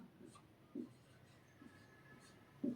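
Pen or chalk writing during a maths lesson, faint scratchy strokes and taps at intervals in a quiet room, soft and close.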